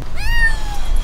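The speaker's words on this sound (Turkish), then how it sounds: "Bir miyavlama sesi duydun mu?" A cat gives one drawn-out meow indoors at home, loud and close, rising then slowly falling over about a second against a low background rumble.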